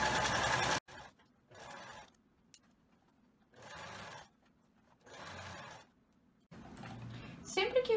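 A sewing machine runs a straight stitch along stretched wide elastic on fabric in several short bursts separated by pauses, with a person talking before and after.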